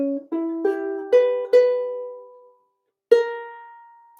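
A plucked stringed instrument plays a short lick of about five notes in quick succession, each ringing on with clear overtones, then a pause before a final struck chord that sustains and fades.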